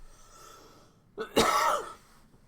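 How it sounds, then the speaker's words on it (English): A single man with a cold coughs once sharply up close, a brief throaty burst after quiet room tone, with no talk over it. "My apologies for the coughing."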